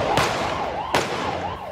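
Police sirens wail in a steady rising-and-falling sweep outside a high school gate during a daytime chase of a driver fleeing a police check, with two sharp bang-like bursts cutting through the siren.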